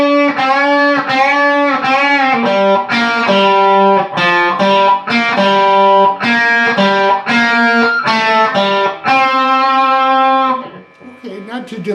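A distorted electric guitar plays the solo slowly, a string of sustained, bending notes with vibrato in a steady phrased rhythm, loud and close, trailing off at the end.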